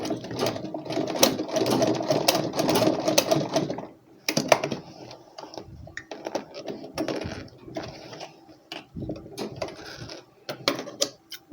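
A sewing machine stitches a buttonhole on a shirt, whirring in fast, loud, close bursts that start and stop, with a long run at first and then shorter runs separated by pauses.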